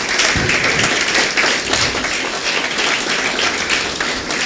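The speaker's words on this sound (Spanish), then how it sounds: "¿Cuánto le da un fuerte aplauso a Dios?" Church congregation giving loud, dense applause during a sermon, a continuous close roar of clapping at steady strength with no talk over it.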